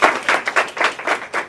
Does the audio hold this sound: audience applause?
yes